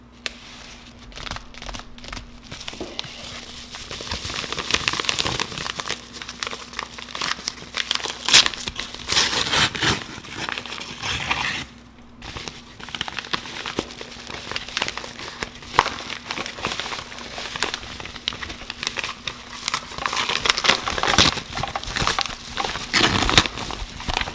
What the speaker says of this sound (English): let's go and open up this SSD Caddy